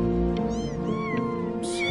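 Cats meow in the video game Before Your Eyes, a few short mewing calls rising over a steady musical background, close and clear.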